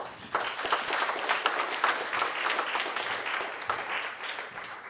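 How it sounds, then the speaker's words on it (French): An audience at a firefighters' recognition evening gives a burst of applause for an honoured firefighter, many hands clapping fairly close, steady throughout and slowly tapering. "Une bonne main d'applaudissement, s'il vous plaît"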